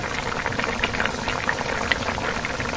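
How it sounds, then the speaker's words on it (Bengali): Fish and coriander leaves go into a simmering pot of curry, a steady bubbling boil with soft popping and small liquid plops running throughout, close and fairly quiet. "এর মধ্যে মাছ দিয়ে দিই, ধনিয়া পাতা"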